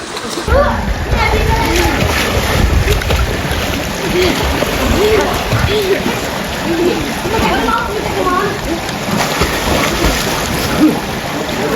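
People splash and swim in cold water on a hot summer day, with repeated close splashes and churning water under lively talk and children's voices.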